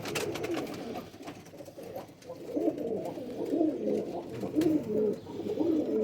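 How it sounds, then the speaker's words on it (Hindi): Pigeons coo repeatedly near the listener in a loft, soft rolling calls rising and falling over faint ambient noise. "ये बिल्ले कबूतर है ओरिजिनल।"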